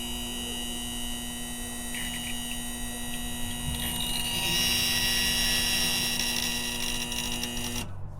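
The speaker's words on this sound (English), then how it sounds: "When you turn power on, both of the pumps will make a sound." A boat's Power-Pole hydraulic pump gives a steady mechanical hum with a whining tone throughout, swelling slightly in the middle as fluid fills it, then ends with a sudden clunk.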